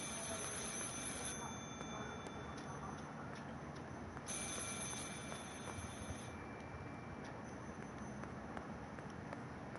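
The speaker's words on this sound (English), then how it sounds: "Telephone is ringing. Who could it be?" Telephone ringing in the horror game Martha Is Dead, a steady electronic ring over a dense constant game ambience, with no voices.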